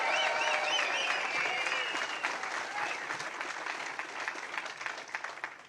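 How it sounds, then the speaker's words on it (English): Audience applause for Philadelphia firefighters at a political rally in Bensalem, Pennsylvania, a loud even roar of many hands clapping with a few cheers, tapering off gradually toward the end. "please give them another round of applause too"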